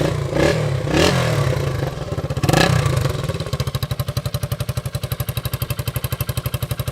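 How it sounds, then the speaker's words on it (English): A 1973 Honda SL125S motorcycle revs with two sharp throttle blips, then settles into a steady, close, loud single-cylinder exhaust beat with a rapid, even putter. "The exhaust note on this thing's just magic."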